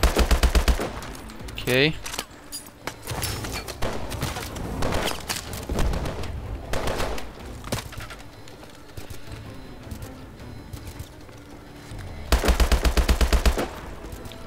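Bursts of gunfire from the Call of Duty: Advanced Warfare campaign mission Bio Lab: dense automatic fire at start and end, scattered shots between, with brief speech.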